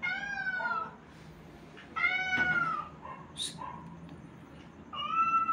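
An orange cat meows several times, drawn-out and plaintive, with quieter sounds between calls, close and fairly clear in a home setting.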